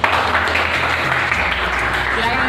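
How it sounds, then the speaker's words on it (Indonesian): A classroom of students in an informatics lesson applauding together, a dense, steady patter of many hands clapping at close range, mixed with some voices, lasting throughout. "Ya, tepuk tangan dulu."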